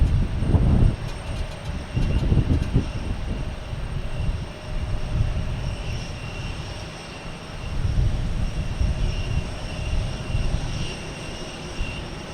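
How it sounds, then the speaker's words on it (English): An Airbus A220 airliner arriving from JFK at Boston Logan, a loud broad jet roar heard from outside, rumbling strongest at the start and swelling again midway as the plane passes and fades. "There's an A220 for the A220 fans coming in from JFK"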